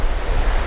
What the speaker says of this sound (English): it's probably 10, 12, 15 mile per hour winds.